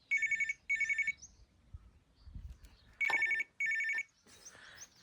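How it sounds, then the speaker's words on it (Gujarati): Telephone ringing in a repeating double-burst pattern, two rings, a pause with faint low rumbling, then two more rings, loud and close with no speech. "પછી આવી ગયો ફોન"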